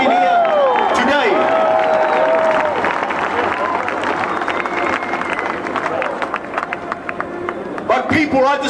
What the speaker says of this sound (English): So give yourselves a round of applause for standing here today.